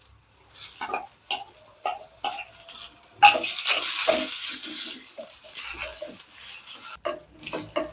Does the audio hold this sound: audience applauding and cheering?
no